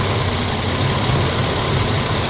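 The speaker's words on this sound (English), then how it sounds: "See if I can hear this engine rev." A Ford Explorer 4.0L SOHC engine with a rough idle from a vacuum leak runs steadily, a low continuous rumble with no revving, close by and fairly loud throughout.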